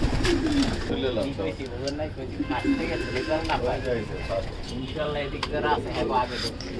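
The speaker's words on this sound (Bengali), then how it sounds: "এইখানে মাদি এবং বাচ্চা কবুতর কিছু রাখা আছে" Several racing pigeons, females and young, coo in overlapping, repeated calls at close range in a loft, while people talk over the background.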